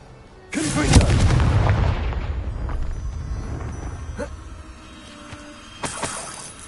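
A Confringo fire spell blasts in Hogwarts Legacy, a loud booming explosion that rumbles and slowly decays over a few seconds, followed by a second sharper burst.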